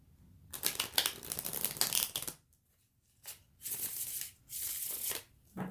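Several bursts of riffling tarot card shuffles, close and crisp, separated by short pauses of near silence.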